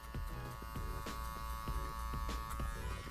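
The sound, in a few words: electric hair clippers cutting hair, clipper over comb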